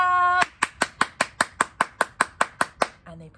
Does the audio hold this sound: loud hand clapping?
yes